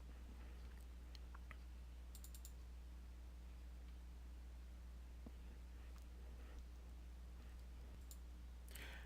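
Faint computer mouse clicks come in a few sparse, sharp ticks over a quiet steady hum, close but soft, at a desk during software work with no talking.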